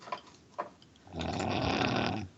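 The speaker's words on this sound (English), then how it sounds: "you better stop snoring" A person snores softly, with two brief faint snorts followed by a longer, rougher rasping breath, close and alone without talk.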